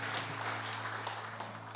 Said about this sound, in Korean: 하나님 앞에 감사 박수 한번 드리겠습니다